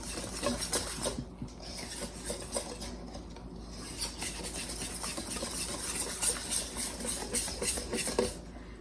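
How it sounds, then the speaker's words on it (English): Cornmeal waffle batter whisked until smooth, a steady scraping, stirring rasp of whisk against bowl that runs close and continuous, with no talking. "we're going to whisk this pretty well until it's smooth"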